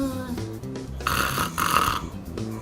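A voice imitates a ghost-like snore, drawn-out airy rasping breaths with a hollow, wavering tone, repeated in two or three close, moderately loud cycles.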